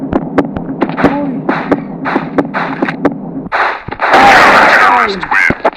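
Sharp gunshots crack out one after another in a Counter-Strike-like shooting game, loud and close, followed by a dense, roaring burst of rapid fire and blasts.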